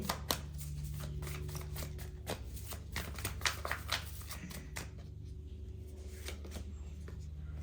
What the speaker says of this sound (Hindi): चलिए एक कार्ड और लेते हैं हम इसी डेक से।